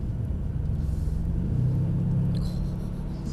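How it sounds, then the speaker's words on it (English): A Mercedes-AMG car engine hums at low revs on a wet track, a steady close rumble with a slight shift in pitch midway and a faint squeal near the end. "The engine sounds nice as well."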